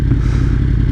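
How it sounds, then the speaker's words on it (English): Motorcycle engine, near Kawasaki bikes at a Redondo Beach, California classic car show, giving a steady low rumble for a brief moment, with no clear rise or fall in revs. "Always fun to have a little rev matching."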